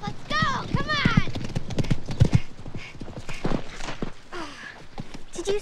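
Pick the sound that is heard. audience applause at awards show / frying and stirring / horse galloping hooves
horse galloping hooves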